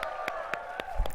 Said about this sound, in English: Let's cheer for those guys too that can't be here in person.